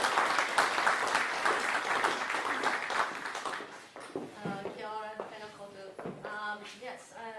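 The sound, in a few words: audience applause welcoming the speaker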